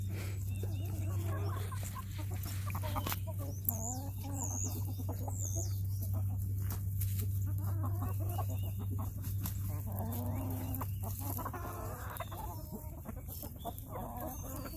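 Chickens and roosters cluck and squawk continuously in a busy flock, roosters warning hens of a predator, with sharp rising calls over a steady low hum and some faint voices nearby.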